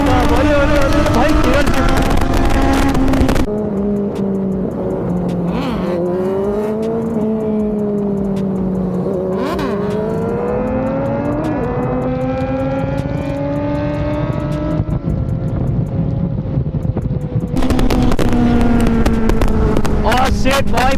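Kawasaki Z900 motorcycle pulling a wheelie at full throttle, its engine screaming loud and close, pitch rising and falling through several revs before roaring back up, with people talking and shouting over it.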